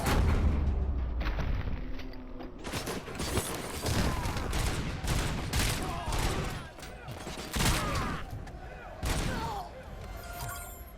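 Repeated shotgun blasts from the video game Robocop: Rogue City, loud close booming shots at an uneven rhythm over a dense, busy game mix of impacts and background noise.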